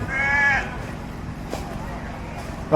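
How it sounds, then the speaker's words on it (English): A Meatmaster sheep bleats once, briefly and fairly close, at an agricultural show in Zambia, over a murmuring crowd and background noise, with people talking nearby. "What animals are these? Sheep."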